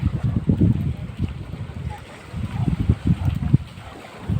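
Wind gusting over open sea while riding on a small boat, a steady rushing buffet with low rumbling swells, carried along under faint background voices.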